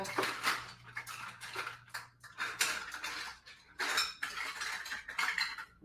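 Metal measuring spoons clink and rattle against one another and nearby dishes in short irregular bursts, close and fairly quiet, with brief pauses between handlings.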